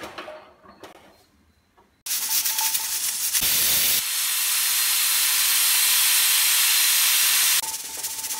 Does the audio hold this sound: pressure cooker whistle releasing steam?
yes